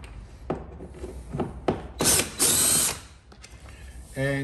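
Ratchet and socket backing out the star-shaped and 10 mm bolts holding the driver airbag of a Porsche 911, giving a few bursts of close ratcheting clicks and scraping with brief pauses, ending on a short tonal squeak.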